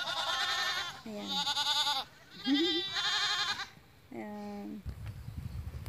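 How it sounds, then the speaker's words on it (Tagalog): Several goats bleat close by in a small village enclosure seen on a bike ride, their wavering calls coming in bursts with short gaps, while someone speaks briefly between them. "Ayan guys, oh, daming kambing."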